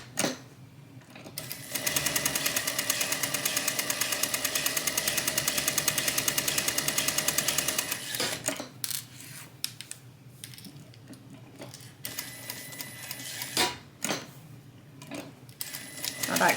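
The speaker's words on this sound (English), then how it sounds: "I'm going to be sewing over those first set of stitches, which is going to lock them in." A sewing machine runs a steady continuous stitch on a tote bag for several seconds, loud and close, then stops, followed by quieter handling sounds and brief bursts of stitching.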